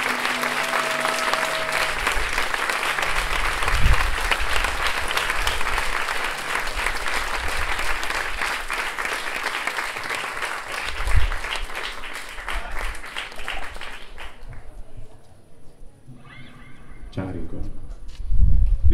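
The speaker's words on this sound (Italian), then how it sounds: "Applausi per lei." A concert audience at a live outdoor festival show applauds steadily for about fourteen seconds, dense and fairly loud, then fades into quieter crowd murmur and scattered sounds.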